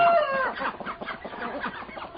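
Chickens cluck and squawk near a vineyard, a close rooster-like call at the start followed by a busy run of short clucks, with no talking.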